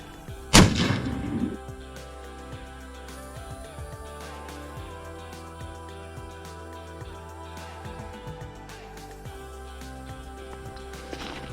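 A Ruger American rifle in .243 fires one sharp, loud gunshot near the start, then the report fades out and a long, quiet ambient tail follows.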